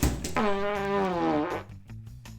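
A single drawn-out fart lasting over a second, loud and close, with a wavering pitch that drops slightly before cutting off.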